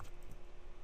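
A short burst of quick, light keystrokes on a computer keyboard, close and fairly quiet.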